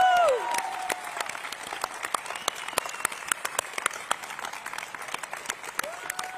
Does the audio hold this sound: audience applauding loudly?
yes